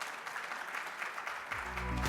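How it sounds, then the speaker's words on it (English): Audience applause welcoming a speaker at the TechSparks 2014 tech conference, a soft, even patter of clapping from a hall crowd that swells slightly toward the end as a low tone enters. "Please welcome her with a big round of applause."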